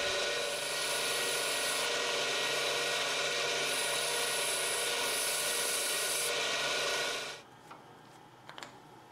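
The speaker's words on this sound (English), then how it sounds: "I will give it a soft sanding just to remove the tool marks." Steady soft rasping of sandpaper rubbing on a wooden carving gouge handle, removing tool marks, continuous for several seconds, then it stops and only faint light taps remain.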